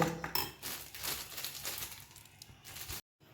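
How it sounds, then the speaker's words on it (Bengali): Ghee and cornflour being mixed together in a bowl, a close, busy scraping and clinking of a spoon against the bowl for a few seconds before cutting off. "ঘি আর কর্নফ্লাওয়ারটা আমি একসাথে মিশিয়ে নেব"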